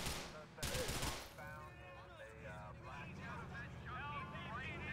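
Police open fire in a driving video game, a short loud burst of shots near the start, then engine noise and overlapping game sounds while a person talks over it.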